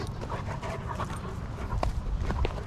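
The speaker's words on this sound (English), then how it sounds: "My dog Benji right there" A dog pants steadily and close by, with quick rhythmic breaths throughout and no talk over it.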